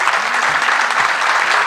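An auditorium audience at a Hindi poetry recital claps loudly and continuously, a dense wash of hands throughout the short burst.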